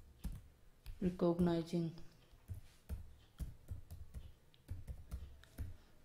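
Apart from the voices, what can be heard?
typing on a computer keyboard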